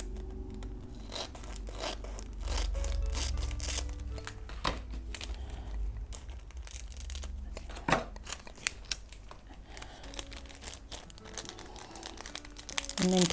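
Scissors snipping through folded-over paper tickets, close and crisp, with repeated sharp cuts mixed with paper crinkling and rustling.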